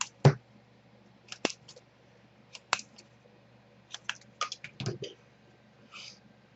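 Scissors cut small paper pieces for an easel cake card in a quiet room, making sparse, close snips and clicks at uneven intervals, with soft rustling between them.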